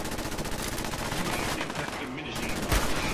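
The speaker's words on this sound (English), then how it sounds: "Fire the cannons!" Cannon and gunfire from a robot pirate battle in the video game Garry's Mod, heard as a dense, continuous barrage of overlapping shots with a heavier boom near the end.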